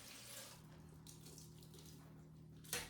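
Running tap water washing out a new Fruitsaver steam canner, a soft steady stream with a low hum underneath and a brief louder splash near the end.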